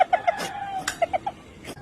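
A caged chicken clucks in a series of short, close bursts, with a brief gap midway before a few more clucks, and no talking.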